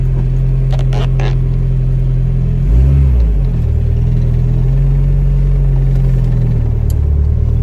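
An Acura Integra with an overheating problem is driven at normal pace, its engine a steady, loud, close drone that swells briefly in a short rev before settling back to an even hum.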